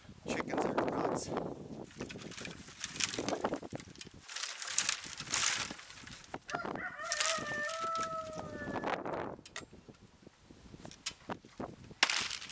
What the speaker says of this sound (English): Chickens are nuts.